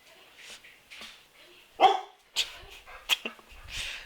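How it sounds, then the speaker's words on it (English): A dog barks several times in a short, uneven series behind a remote interview setting, the yaps sharp and moderately close but not very loud, with faint room noise between them. "I'm sorry about my dog It's going crazy behind me."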